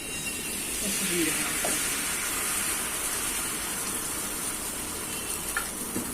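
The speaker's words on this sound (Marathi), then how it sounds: "आता परत बटर लावायचा आणि फक्त असा डोसा थापून घ्यायचा." Amboli dosa batter spread onto a buttered hot pan for Konkan-style amboli, a steady soft sizzle and hiss with faint scraping, close and even throughout, with no talking.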